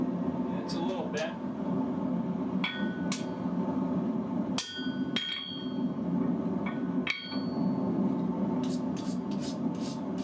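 A blacksmith hammers hot steel on an anvil at a forge, with scattered, irregular ringing metallic strikes spaced a second or so apart over a steady background hum.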